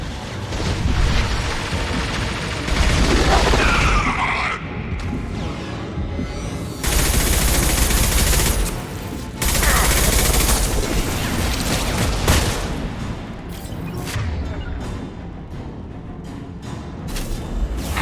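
Gunfire during a Mass Effect 2 fight aboard the Collector vessel, heard as heavy sustained bursts and booming blasts that surge and drop in loud waves, with almost no talk.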